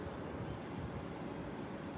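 Two F-18 jet planes fly over Brooklyn, New York City, producing a continuous broad, rushing roar that holds steady throughout, fairly distant and moderately quiet, with no voices.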